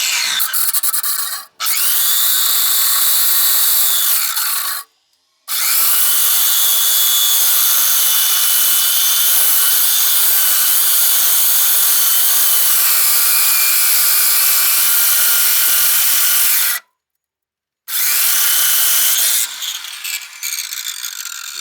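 Rusted cables on a Trackless MT5TD being cut with a hand tool, a loud, continuous grinding, rasping cut broken by a few short pauses, close and alone with no voices.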